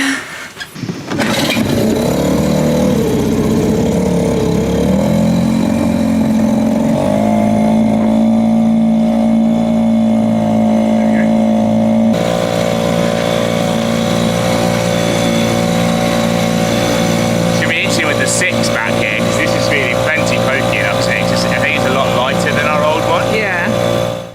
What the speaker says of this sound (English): our new 6 horsepower outboard